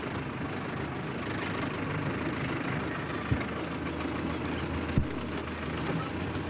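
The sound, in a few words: 4WD vehicle engine in first gear on a hill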